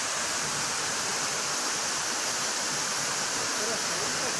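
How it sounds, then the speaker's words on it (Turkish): Steady, roaring rush of falling water, a dense unbroken hiss filling the whole stretch without pause. "bu şelalenin eşi benzeri yok."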